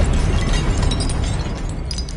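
A dense, rumbling blast from the Confringo fire spell in Hogwarts Legacy, hitting statues, roars loudly and steadily with crackling debris throughout.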